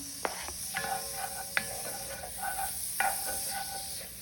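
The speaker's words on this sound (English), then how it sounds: "then we're going to be sauteing the onions and the garlic" Onions and garlic sautéing in melted butter in a pot over low-medium heat, soft sizzling with several sharp clinks and scrapes of a stirring utensil.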